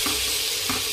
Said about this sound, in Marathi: चिरून घेतलेला आपण बटाटा टाकून घेतला।